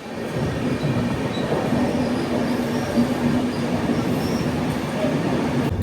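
Kirandul passenger train 58501 rolls along the hilly, tunnelled Araku line on a curve, a steady loud rumble of wagons with faint wheel squeal and clatter throughout.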